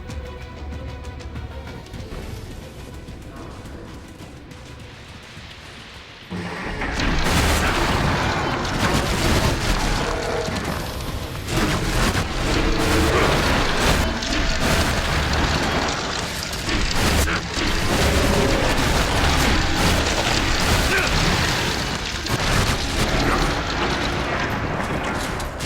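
Enemies shooting at the player in the Elex 2 video game, starting as a quieter stretch and then erupting into a loud, sustained roar of dense fire and blasts that carries on without letup.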